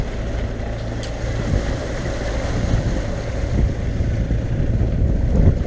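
Steady wind of about 10 knots roars across the microphone with low rumbling gusts, over a constant background of boat and water noise, no voices.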